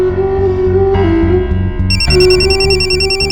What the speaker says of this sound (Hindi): शरद को फोन करके पूछती हूँ